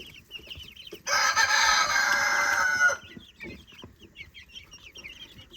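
Bielefelder chickens cluck and chatter nearby, with a loud rooster crow bursting in for about two seconds before the soft clucking resumes.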